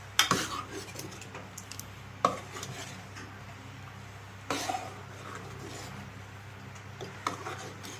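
Intermittent scraping and clinks of a spoon against a pot of breadfruit curry being stirred, with soft rubbing between, quiet and close.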